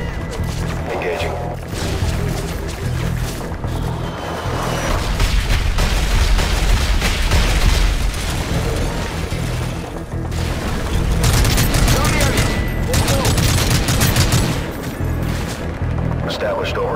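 Gunship air support in Call of Duty Modern Warfare 3, heavy booming cannon and artillery fire with rumbling explosions and rapid bursts throughout, loud and close, with voices talking over the barrage.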